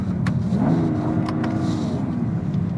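A 410-horsepower BMW M2 accelerates hard, its engine revving up loudly and close with a rising drone throughout, no talk over it.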